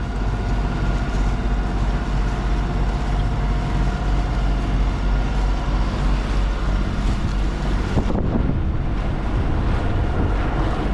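A sailboat motors at sea with no sails up, in light wind and small swells, a constant loud roar of wind and engine rumble with water wash, shifting briefly near the end.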